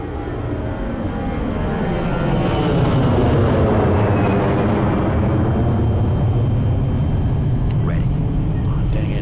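A drone aircraft engine drones loudly and continuously in the Ghost Recon Future Soldier video game, a steady broad whir that swells slightly mid-clip and holds throughout, with no one talking over it.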